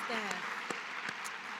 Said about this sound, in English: Give a big round of applause to the students and everybody who made it here.